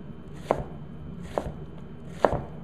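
A knife chops an onion on a cutting board, three distinct, evenly spaced thuds about a second apart, close and clear with no talking.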